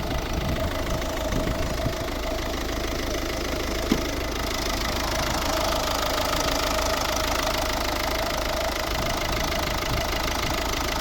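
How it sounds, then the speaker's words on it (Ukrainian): A Volvo S40 with a 1.6 diesel engine, a 2010 model, runs at a steady idle, its even clattering drone close and continuous with no talk over it. "Ось робота двигуна."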